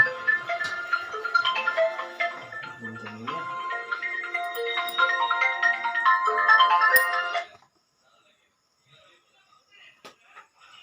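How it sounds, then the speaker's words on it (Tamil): A phone rings with a bright, repeating melodic ringtone for about seven seconds, fairly loud and close, then cuts off into near silence. "ஃபோன் வந்துட்டே இருக்குங்க."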